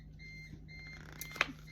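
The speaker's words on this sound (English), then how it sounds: "there's something beeping" An electronic beep sounds once, short and fairly faint, against a quiet room with a steady low hum, during a talk about children's picture books.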